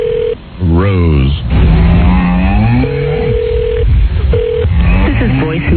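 Telephone keypad dialing tones beep in short bursts and a held tone as a call is placed, loud and clear, with people talking through much of it.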